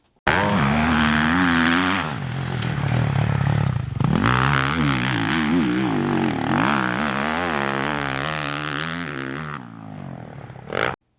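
A motocross bike ridden hard, its engine revving and rising and falling in pitch through repeated throttle bursts and gear changes, loud and near, cutting off briefly midway before revving on again.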